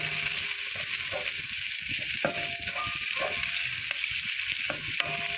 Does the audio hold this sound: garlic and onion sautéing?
yes